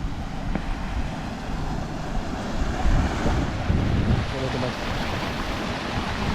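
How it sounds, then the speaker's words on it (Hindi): Water flows somewhere near Garni, Armenia, a steady broadband rush mixed with gusting wind buffeting the microphone, moderately loud and continuous throughout. "यहाँ पे कहीं पानी बह रहा है"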